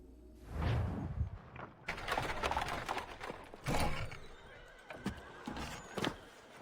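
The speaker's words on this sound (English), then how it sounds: "Connor, ride the horse, damn it, learn to ride." A horse in Assassin's Creed III whinnies loudly up close, followed by clopping hooves and snorts amid a game soundscape, with brief bursts of motion noise.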